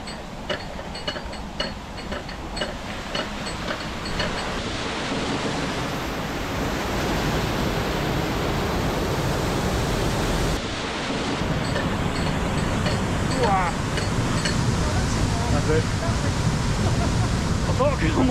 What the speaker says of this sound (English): So that opens the paddle, water goes through, boat goes down.